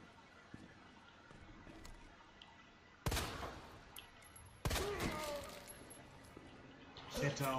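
Two sharp, loud gunshots in Resident Evil 2 Remake burst out a couple of seconds apart, each followed by a ringing decay, amid quieter background clatter.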